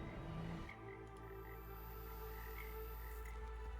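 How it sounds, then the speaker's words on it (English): A tree frog croaks in the Chernobyl exclusion zone, a short burst near the start giving way to a steady low hum and faint repeated calls, with no speech. "This is a tree frog."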